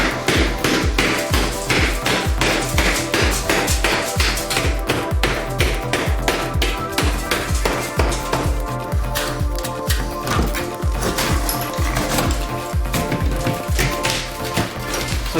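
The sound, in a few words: smashing a hole through bathtub wall tile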